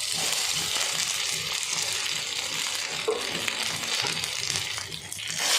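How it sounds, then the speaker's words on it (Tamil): Taro roots frying with curry leaves in a pan over a slow fire, giving a steady close-up broadband sizzle with soft stirring scrapes throughout. "சேப்பங்களை போட்டுக்கிட்டு ஸ்லோ ஃபயரில் நல்லா குக் பண்ணலாம்."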